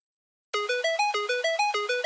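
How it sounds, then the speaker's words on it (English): A bright synth arpeggio starts after a brief silence, stepping through notes in a quick, even rhythm at steady volume. "I added another arp that sounds like this."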